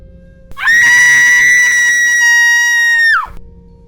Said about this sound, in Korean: 갑자기 창문 너머에서 귀가 찢어질 듯한 비명이 들렸다.